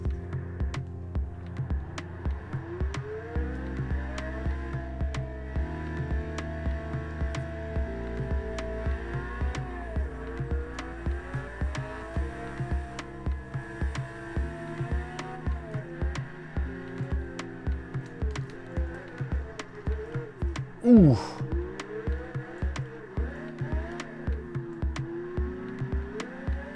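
Car engine in Test Drive Unlimited 2 heard from the in-car view with the windows up: a muffled, droning hum with gear-change steps and rising revs, plus a brief exclamation from a voice.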